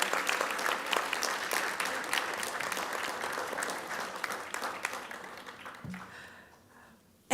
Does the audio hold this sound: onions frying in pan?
no